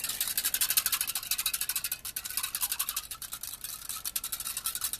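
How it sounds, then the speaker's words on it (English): A whisk beats cornstarch slurry in a bowl for Sunday dinner fixings with a whole roasted chicken, a steady, rapid scraping rhythm held close and fairly loud for the whole stretch, with no talking. "Use my whisk. I'll whisk that cornstarch."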